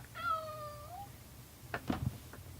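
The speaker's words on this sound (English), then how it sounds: "Hello, Mr. Kitty." A house cat meows once with a long, drawn-out falling cry, followed by a few brief rustling noises nearby; close and fairly quiet, with no talking.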